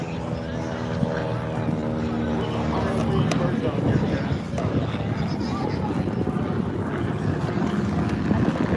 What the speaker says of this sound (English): This aircraft is a advanced trainer. It's a heavy, complex aircraft. And now taking off on the runway.